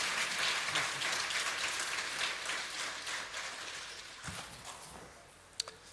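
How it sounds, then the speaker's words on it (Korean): A church congregation at a Sunday worship service claps to welcome a visiting pastor to the pulpit, a steady broad wash of applause that gradually thins and fades, ending with a couple of isolated claps. "우리 심찬 박수로 한번 환영했으면 좋겠습니다."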